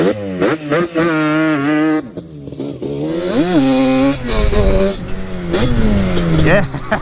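A Yamaha Banshee two-stroke ATV launches hard in second gear, its engine revving high and rising in pitch through repeated bursts, loud and close, with a voice whooping between the revs.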